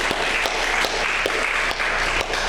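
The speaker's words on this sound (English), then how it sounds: "he really does deserve a real great round of applause" An audience at a town's annual community meeting claps steadily, a dense and sustained round of applause with individual sharp claps poking through, with no talking over it.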